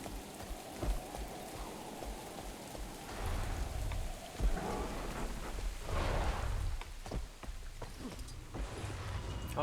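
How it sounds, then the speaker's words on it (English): Steady rain falls in the Guild Wars 2 game world, pattering on surfaces with a low rumble of distant thunder beneath, moderately loud and continuous with no voices. "like the rain, and it sounds very relaxing"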